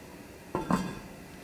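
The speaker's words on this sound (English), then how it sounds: "I'm going to put the top on, cover it" A lid goes onto a pot of simmering oxtails in red wine sauce. Two quick metallic clinks sound close together, fairly soft, with no talking.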